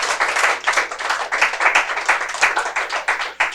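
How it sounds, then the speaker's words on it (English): An audience at a junior science quiz gives both school teams a round of applause, a steady, close patter of clapping hands lasting several seconds without talk. "Let's give both teams a big round of applause."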